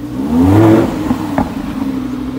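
A black Lamborghini Huracan LP 610 with four-wheel drive pulls away on a Geneva street, its engine rising in a short revving surge and then settling into a steady mid-pitched drone as the car moves off.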